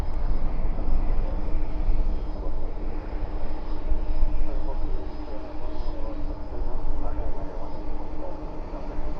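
A UPS cargo plane departing at night from Dallas Fort Worth gives a continuous distant engine rumble with a faint steady whine, under a low background hum.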